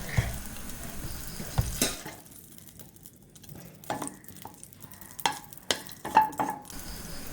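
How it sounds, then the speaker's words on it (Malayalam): A spoonful of ghee melts in a hot pan on the stove for mango halwa, giving a soft, steady sizzle broken by a few sharp spoon-and-pan clinks and stirring scrapes, close and fairly quiet. "അതിലേക്ക് നമുക്ക് 1 സ്പൂൺ നെയ്യിട്ട് കൊടുക്കാം."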